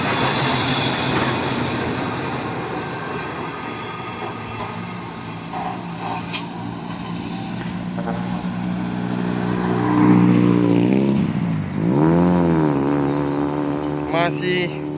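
A Hino trailer truck labors up a steep hill, its engine droning and grinding with rising whine near the end, while someone talks over the rumble.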